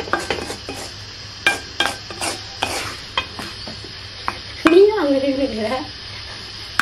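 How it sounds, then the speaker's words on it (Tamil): Semolina roasts in a pan for rava kesari as a spoon scrapes and stirs in repeated close strokes, with a light sizzle underneath and a voice talking midway. "இந்த மாதிரி நல்லா வறுத்து எடுத்துக்கணும்"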